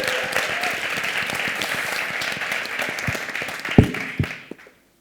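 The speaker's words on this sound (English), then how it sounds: "Can we please all give the whole group a round of applause?" Conference audience applauding a group of emerging leaders, a steady wash of clapping that thins into a few louder scattered claps before fading out.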